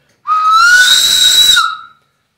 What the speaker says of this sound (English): if you uh, blow harder on it, it'll go into a higher mode